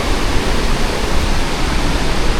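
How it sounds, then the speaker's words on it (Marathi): Marleshwar waterfall roars in a dense, loud, unbroken rush of water, close by and steady, with no voices over it. "धबधबा दाखवतो तुम्हाला."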